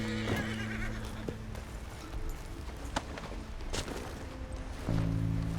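A horse neighs and whinnies while its hooves clip-clop steadily, with a musical drone underneath; the sounds are close and moderately loud.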